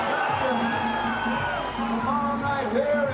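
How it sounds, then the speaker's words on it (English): Big crowd at Kell Brook's boxing weigh-in, with 27,000 expected at Bramall Lane, roaring and whooping loudly and continuously, with shouts and yells rising over the din. "And one last roar of the crowd"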